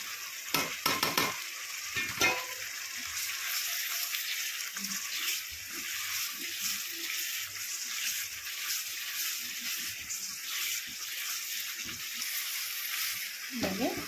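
Fish curry masala of ground fenugreek, mustard seed, cumin and chili powder sizzles steadily in a pan while being stirred, with a few clattering knocks of the spoon against the pan.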